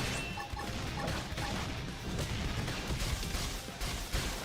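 Cannon fire in the Xenoblade Chronicles X video game, a dense run of loud crashing blasts and impacts packed tightly together for several seconds amid busy game effects.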